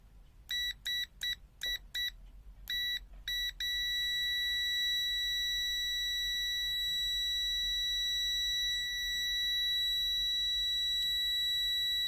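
AICEVOOS AS88A multimeter continuity buzzer sounds several short high beeps in quick succession, then one long continuous tone, close and clear over faint background hum.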